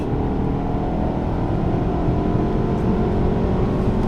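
A Chevrolet SS with a manual gearbox roars steadily at full throttle and high revs, loud and close, a dense continuous drone with no letup for the whole stretch.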